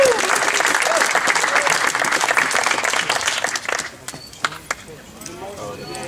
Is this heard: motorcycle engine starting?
no